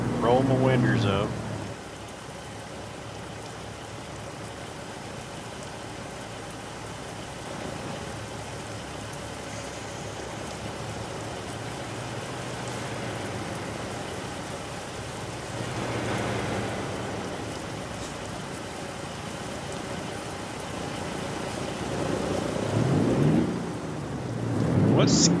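Steady rain hisses throughout in the video game American Truck Simulator, with low rolls of thunder swelling near the start, middle and end.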